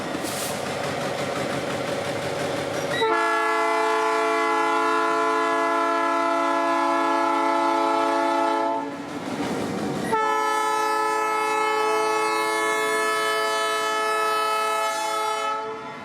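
A Florida Northern Railroad freight train's GP18 locomotive sounds its horn in two long, loud chords with a short gap between them, over a low rumble of the engine and rolling cars.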